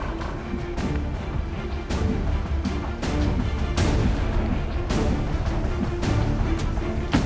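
Heavy, booming gunfire from the tactical video game XCOM 2: War of the Chosen, with repeated loud blasts at roughly one-second intervals over a dense, continuous rumble.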